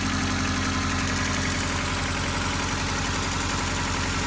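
An 1988–91 Honda Civic wagon engine idles steadily after an oil pan replacement, a loud continuous low rumble with a regular fine pulse throughout and no talking.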